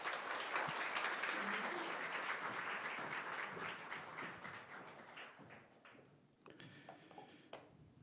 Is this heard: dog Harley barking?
no